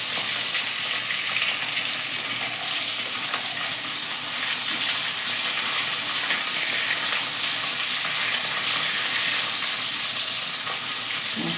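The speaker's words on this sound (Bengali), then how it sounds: "মাছটা কড়া ভাজা করবো না, হালকা একটু ভেজে নেবো।" Hilsa fish fries lightly in a pan, with a loud, dense sizzle that crackles and hisses steadily throughout.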